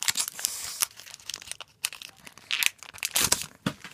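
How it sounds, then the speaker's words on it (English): A Pokémon Charizard trading card pack being torn open by hand, with close crinkling foil wrapper and short tearing rips in irregular bursts, alone. "So let's open this thing up. Let's rip it out and then get all the cards out."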